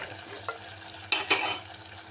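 Green chillies and onions frying in a pan give a soft background sizzle. Stirring adds a few scraping clinks, with a louder burst of stirring in the middle.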